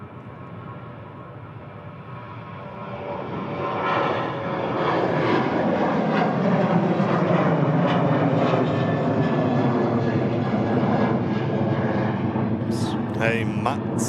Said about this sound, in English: At Ryanair, flying out to Dublin